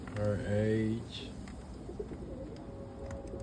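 A roller pigeon gives a few low, close coos at the start, then softer bird sounds continue in the background as someone talks over them.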